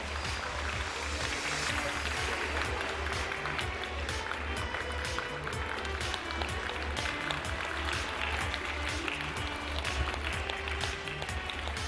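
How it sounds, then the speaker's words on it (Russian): An audience at a dance festival gala in Tallinn claps for ensemble award winners, a continuous, even roar of many hands that stays at one level throughout with no voices standing out. "Ваши бурные аплодисменты, поздравления от души"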